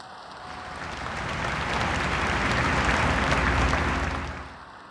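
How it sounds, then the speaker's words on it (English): Applause rises from an audience at a college student academic excellence awards ceremony, swelling from moderate to a full, dense roar of clapping, then tapering slightly at the end. "Let's give them another round of applause."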